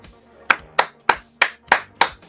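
Six crisp hand claps, evenly spaced and loud, ringing out close with short gaps of quiet between them.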